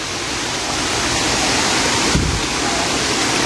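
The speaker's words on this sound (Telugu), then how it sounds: "వాటర్ ఫాల్ సౌండ్ చాలా ఎక్కువ వస్తుంది" Sarugudu Waterfalls roars in a dense, steady rush of falling water, loud and unbroken throughout with no voices over it.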